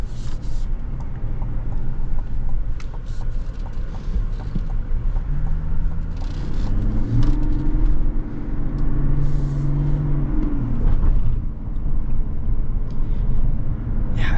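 A 2025 Chevy Tahoe LT with the Duramax diesel rumbles low from inside the cabin, its engine tone rising and falling gently as the throttle is feathered under road noise.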